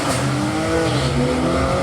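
A tuned BMW M340i making about 800 horsepower accelerates hard with squealing tires, its engine roaring loud and close throughout with a rising, strained tone.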